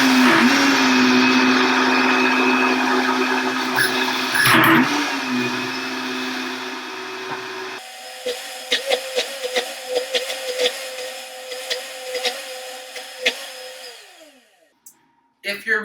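A blender blends hummus ingredients, first as a loud continuous whir, then, after a pause, in a series of short pulsing bursts as it struggles with the stiff mixture. Voices talk faintly in the background.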